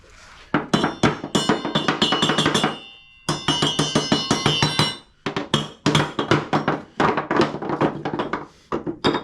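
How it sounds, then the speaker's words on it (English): Rapid metal-on-metal taps knock a pulley loose on a John Deere S240 mower deck, dense ringing strikes in quick bursts with brief pauses, close and clear with no talking. "Sometimes the pulley will not want to come off. Just lightly tap."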